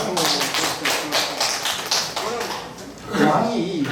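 Audience members at a Korean Buddhist study lecture on the Zhaozhou Records clap in a loose, fairly sparse rhythm of distinct claps, with a voice speaking over the last part.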